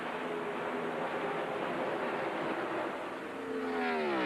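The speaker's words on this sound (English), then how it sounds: "The motor was revving up that high." A race car's engine at the 2002 Winston screams at sustained high revs, a steady loud roar with pitch rising toward the end as the slipping clutch lets the RPMs climb.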